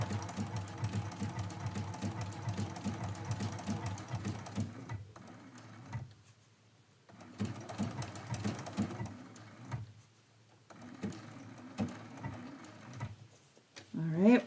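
A sewing machine stitches a quilt in rapid mechanical bursts with brief pauses between runs, close and fairly clear, a few light clicks at the stops.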